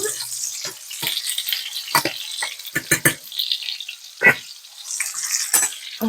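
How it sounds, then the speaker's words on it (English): Simmering beans in a pot are stirred on the stove, giving scraping and bubbling sounds with a few sharp knocks of the spoon against the pot. The bursts are irregular and close, and no one speaks. "Let's give them a stir."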